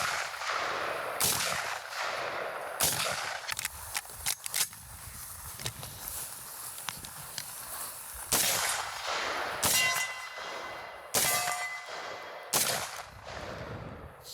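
Shots from a PSA Super SASS .308 rifle ring out on steel targets: sharp reports spaced a second or more apart, each followed by a metallic clang, at moderate loudness with no talking.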